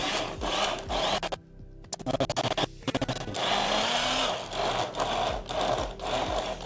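A blender mixing ingredients for Spanish tapas, whirring close in short pulses and longer runs with choppy stops and restarts, no voices over it.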